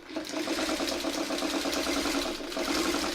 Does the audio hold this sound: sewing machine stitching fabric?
yes